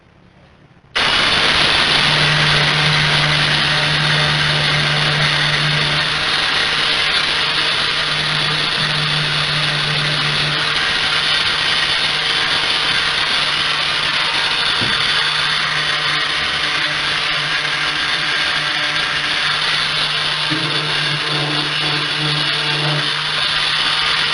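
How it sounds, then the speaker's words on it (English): A small power sander smoothing the edge of a bathtub-to-shower conversion kit starts up abruptly and runs loud and steady with a constant whirring drone that barely changes pitch. "I just use a little sander."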